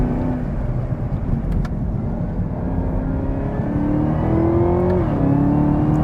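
A supercharged 6.2-liter V8 in a 2021 Chevrolet Camaro ZL1 accelerates with a loud, steady engine drone that rises gradually in pitch, a supercharger whine riding over the low rumble.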